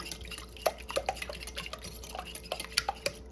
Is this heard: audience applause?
no